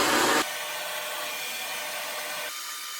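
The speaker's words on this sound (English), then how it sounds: "If you were wondering what I did there with the blow dryer, I literally just put it in between my legs while it was still on" A handheld blow dryer runs with a steady broadband whoosh while hair is styled with a round brush to add volume to bed head; the airflow shifts in tone partway through and continues alone without talk.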